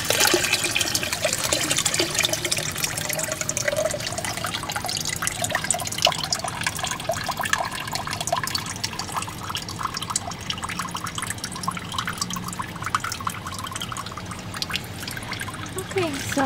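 Water drains steadily through an aquaponics siphon in a 50-gallon trout system, a continuous close trickle and gurgle that runs for the whole stretch with faint drips on top.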